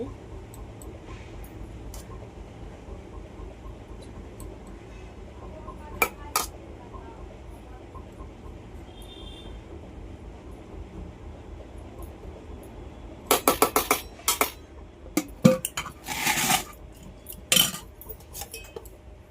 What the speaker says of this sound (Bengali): খাবার ভরছি কর্তা মশাইয়ের, আমার খাবার যাবে